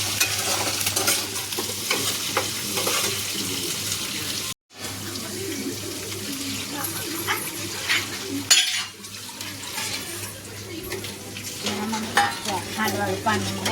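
Sugar-and-salt water is poured into a hot sizzling tempering of mustard seeds, chillies and curry leaves for khaman, a loud hiss and bubbling with splashing and stirring that continues throughout, broken by a brief gap near the middle.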